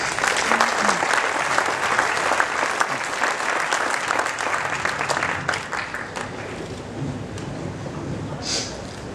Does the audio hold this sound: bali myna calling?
no